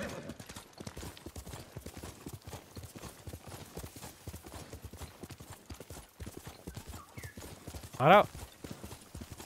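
Hooves clip-clop at a steady gallop as a horse is ridden in the video game Ghost of Tsushima, with a brief whinny near the end and someone talking over most of it.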